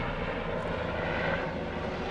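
A steady, loud helicopter drone fills the scene, a rotor-driven roar passing overhead without pause.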